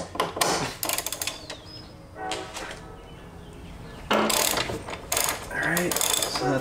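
Ratchet loosening E18 external Torx bolts on a car strut during a Bilstein B8 strut swap, with several bursts of rapid metallic clicking separated by short pauses, close and fairly loud.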